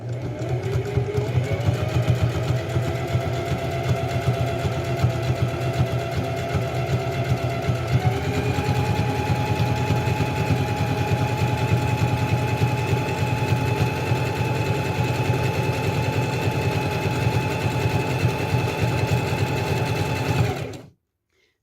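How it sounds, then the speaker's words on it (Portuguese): A sewing machine stitches fabric with a steady, loud mechanical whirr and rapid needle chatter that runs continuously for about twenty seconds, its pitch stepping up partway through before it stops abruptly. "Posicione o tecido na máquina, abaixe a sapatilha e costure."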